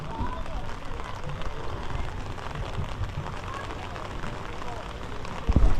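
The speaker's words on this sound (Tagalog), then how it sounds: "Ang ulan." Steady rain pours down with a dense, even hiss that holds level throughout, and a slightly louder rush of patter comes in at the very end.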